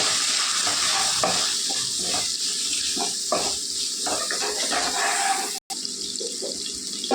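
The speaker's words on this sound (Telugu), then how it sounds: "బాగా వేగాలండి ఉల్లిపాయలు" Onions frying in a pan of oil, a continuous loud hiss with faint stirring scrapes close by, steady throughout apart from one sudden brief dropout near the end.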